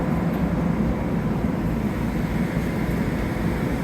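A New York City subway E train rolling along, a steady low rumble and rattle of the car filling the ride without pause, loud and close, with no talking.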